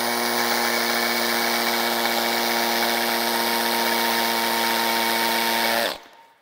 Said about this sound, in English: let's go ahead and drill a hole, listen to the sound